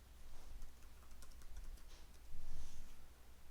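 Keywords being typed into search boxes on a computer keyboard, a steady patter of soft, fairly quiet key taps over a low background hum, with a slightly louder burst near the end.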